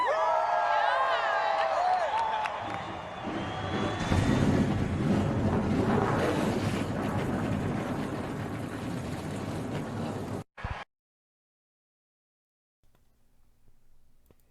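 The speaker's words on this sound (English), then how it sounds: "The engines have been fired." Field of 38 race car engines firing at Watkins Glen for a racing series event, a loud rumbling roar mixed with crowd noise and wind, then an abrupt cut to near silence.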